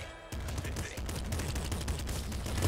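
Rapid, dense gunfire from a shotgun in the video game Nuclear Throne, with overlapping blasts and game effects running almost nonstop at a loud, steady level once the shooting starts.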